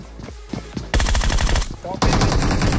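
A Groza assault rifle fires in the Free Fire battle royale game as loud, close bursts of rapid automatic shots, one burst cutting off sharply before the next begins.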